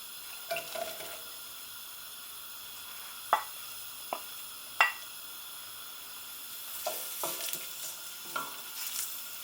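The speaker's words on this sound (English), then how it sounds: "Once they start to sizzle," Red onions sizzle and hiss steadily in oil in a hot pan, with occasional sharp clinks and scraping as they are stirred.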